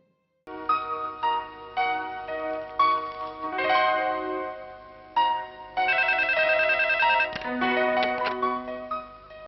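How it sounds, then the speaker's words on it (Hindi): A telephone rings with a repeated electronic ringtone melody, loud and steady after a brief silence, no voices over it, in a police drama scene. "एसपी का फोन है"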